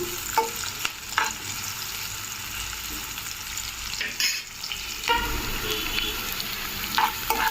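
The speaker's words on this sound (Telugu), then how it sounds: "ఇందులోకి ఆనియన్స్, పచ్చిమిర్చి, కరివేపాకు వేసుకుందాము. ఆయిల్ బాగా హీట్ అయింది. మొత్తం ఒకసారి కలుపుకుందాము." Onions, green chilies and curry leaves fry in hot oil for a spicy mutton fry, a loud steady sizzle broken by repeated scraping stirs of a spoon against the pan.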